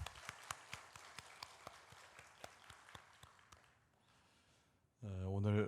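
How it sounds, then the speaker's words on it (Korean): A church congregation claps in a steady unison rhythm for several seconds after a special song, then the clapping fades and a voice begins speaking close by. "한 번 더 그 박수 하겠습니다."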